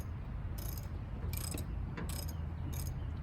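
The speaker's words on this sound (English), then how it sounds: "We're just going to bolt that down." A ratchet wrench tightens a bolt holding down a seat in a Mercedes 300D, with several quick bursts of clicking spaced through the clip over a steady low rumble.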